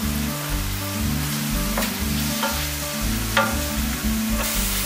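Onions, red pepper and garlic sizzle and fry in a large tall-sided pan ahead of cooking mussels, a steady close crackle with occasional stirring scrapes and no talk.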